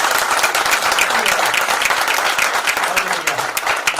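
An audience at a corporate speech event breaks into loud, dense applause, a continuous wash of many hands clapping that fills the room for several seconds.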